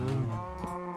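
Cows in Minecraft giving a single close, loud, drawn-out low moo with a steady tone that lasts the whole moment and no talk over it.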